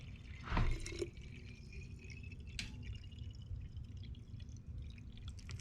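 Water from an old bottle pours into an ozone device for deer hunting in a short, faint gurgling splash near the start, followed by quiet handling and small drips.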